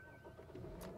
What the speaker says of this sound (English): What are you gonna hear? That's a fuel pump.